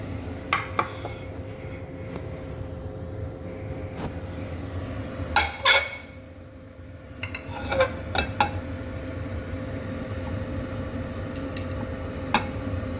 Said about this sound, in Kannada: ಅಕ್ಕಿನೂ ಈ ಥರ ಶಬ್ದ ಬರಬೇಕು, ಆ ಥರ ಹುರಿಬೇಕು